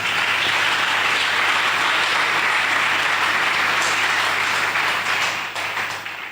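Church congregation applauding, a dense, sustained roar of many hands clapping at full volume from start to finish, tapering slightly at the very end.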